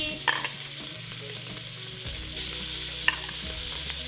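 Beef cubes for a spicy beef stew hit a hot pan and sear with a steady, close sizzle and frying crackle, with a few sharp clinks of tongs against the pan and no talking.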